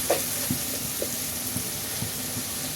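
Ground spices and salt fry in a pan for an egg curry with potato and tomato, a steady soft sizzle broken by several dull scraping taps of a spoon stirring, close by with no talking.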